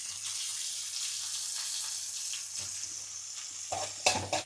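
Shallots and a tomato stirring in a hot pan give a steady, close sizzle, with a few louder scraping stirs near the end and no talk.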